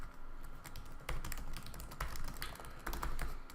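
Fingers type a password on a computer keyboard, tapping out a quick run of crisp, closely spaced keystrokes over a faint steady room hum, with no speech.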